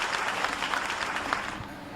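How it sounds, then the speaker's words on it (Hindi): Steady audience applause at a Hindi poetry gathering (Kavya Kumbh kavi sammelan), a dense continuous patter of many hands clapping at moderate distance, sustained evenly throughout without a break. "जोरदार तालियां बजाइए"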